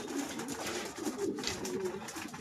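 A lone young pigeon outdoors gives soft, low cooing notes in a few short repeated phrases over a steady background hiss, fairly quiet and mid-distance, with no voices.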